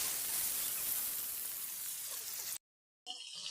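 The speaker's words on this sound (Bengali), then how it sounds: "কড়াইতে তেল গরম হয়ে গেছে, আমি একটা একটা করে মাছগুলো দিয়ে দিব।" Rohu fish pieces coated in turmeric and salt frying in hot oil in a karahi, a steady close hissing sizzle that cuts out abruptly, then briefly returns.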